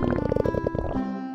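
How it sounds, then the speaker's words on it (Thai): Hungry cats' stomachs rumble in a loud, close run of bubbly gurgling pulses that ends in a lower sustained groan. "เสียงท้องร้องโครมครามกันเลยเนี่ย"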